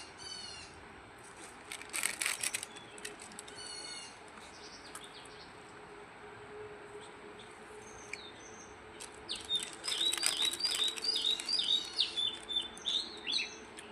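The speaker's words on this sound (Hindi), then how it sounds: "हर प्रकार की चिड़िया" Several kinds of birds chirp and call in a forest, a scattered mix of bright tweets and trills that builds into a busier, denser chorus toward the end, with no one talking.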